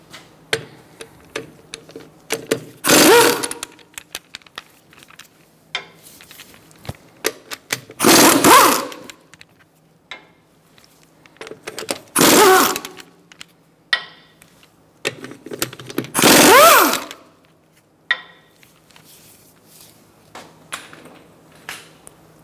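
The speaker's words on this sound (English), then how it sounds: "Using a 17mm socket, we're going to remove our wheel fasteners" Wheel fasteners on a 2012-2019 Fiat 500 being spun off with a 17mm socket on a power tool: four loud, separate buzzing bursts a few seconds apart, with faint clicks and handling noises between them.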